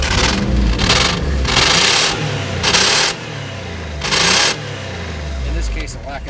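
Gambler 500 truck with almost no exhaust system, its engine rumbling close and loud through several surging revs, with people talking over it.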